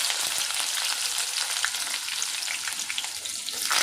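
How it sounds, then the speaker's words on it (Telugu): Chopped onions and green chillies fry in hot oil with tempering spices for an aloo, green pea and bean curry, making a loud, close, continuous sizzle that swells slightly at the end, with no talking. "ఇప్పుడు మనం ఆనియన్స్ అండ్ పచ్చిమిర్చి వేసుకుందాం."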